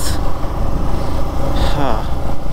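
A TVS Apache RTR motorcycle, carrying a pillion and due for servicing, rides up the Lonavala ghat in the monsoon. A loud, steady roar of engine and rushing wind stays close and continuous throughout.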